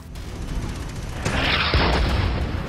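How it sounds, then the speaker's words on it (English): Incoming Magnum artillery shell in the tank game Tanki Online, a short whooshing hiss rising into a loud booming impact that lingers briefly, heard on its own. "The first one is the sound the projectile makes when it's about to hit you"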